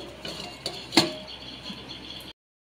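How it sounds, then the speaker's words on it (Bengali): A lid set onto a cooking pot of simmering potato curry, a single sharp metallic clink amid a few lighter taps, close and quiet, followed by silence. "একটু ঢাকা দিয়ে দিচ্ছি"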